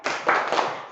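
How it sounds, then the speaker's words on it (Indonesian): A classroom group does a quick spirit clap, a short burst of a few rapid claps from many hands, close and moderately loud, with no talking over it. "Tepuk semangat."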